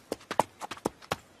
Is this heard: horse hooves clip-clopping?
yes